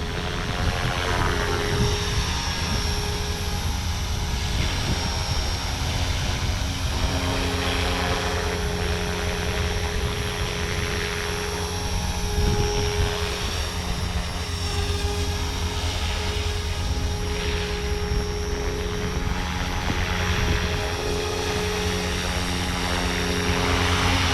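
A Blade 500 3D RC helicopter flies steadily in strong wind outdoors, its rotor and motor giving a constant loud whine and buzz with slight swells, heard without speech.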